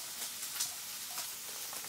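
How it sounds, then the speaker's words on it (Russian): Bacon sizzles in a frying pan with a faint, steady crackling hiss that runs throughout, soft and fairly distant, with no voices. "Бекон жарится, укроп рубится."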